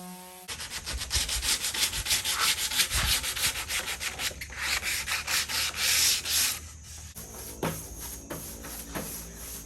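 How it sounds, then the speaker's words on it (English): Hand sanding of wooden doors on a Thai house build, with rapid back-and-forth rubbing strokes close by, rising and falling in bursts before tapering to lighter scuffs. "that's all sanded and dusted"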